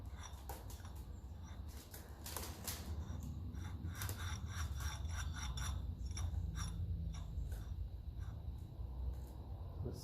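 Rasping, scraping rub from a part on a 1954 Ferguson 20 TEF diesel tractor, a steady close grinding texture broken by repeated short scrapes for the whole stretch, with no talk.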